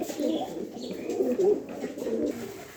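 Tiger Jacobin pigeons coo in a series of soft, throaty murmurs at close range, with a faint voice in the background.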